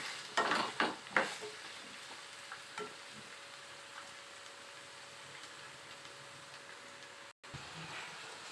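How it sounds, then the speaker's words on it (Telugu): Ivy gourd (dondakaya) pieces stirred and frying in an oiled pan, with a few sharp scraping, crackling bursts near the start over a steady close sizzle that continues, a brief dropout near the end. "దొండకాయలు వేసేసి ఒకసారి కలిపేసి మూత పెట్టేద్దాం."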